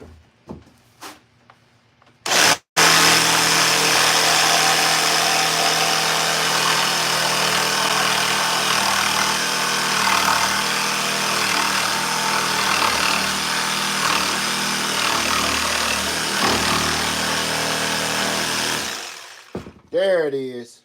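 A power tool grinds through a kitchen countertop to trim the sink cutout. After a few short taps and a brief start, it runs as one loud, sustained, rasping cut for about seventeen seconds, then winds down and stops.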